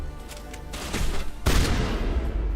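Enemy gunfire in the Mass Effect video game, a steady burst of shots that swells louder and denser partway through, close and continuous.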